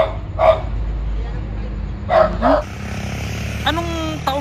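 A dog barks downstairs in an old mansion in Davao del Sur, a few short distant barks and yips scattered across the moment while people talk nearby.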